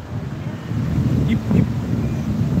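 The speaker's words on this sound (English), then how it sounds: "It's really windy over here." Strong beach wind buffeting the microphone, a steady low rumbling roar with gusts that swell and ease, loud and close, with no clear talk.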